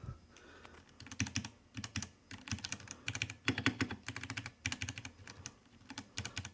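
Typing on a Ducky One 3 SF 65% keyboard with Cherry MX Brown switches, quick bursts of close, crisp clacking keystrokes in uneven rhythmic runs, with no talk.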